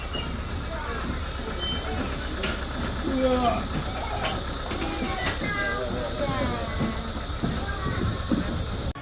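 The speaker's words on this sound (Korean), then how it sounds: "기차 타러 가자!" A children's ride-on train runs with a steady hiss and rumble and occasional squeaks, close and continuous, while people talk over it.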